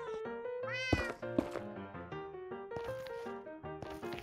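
A cat in the Minecraft video game meows several times in a row, bright, close and clear, with a few rising and falling calls one after another and no talk over them.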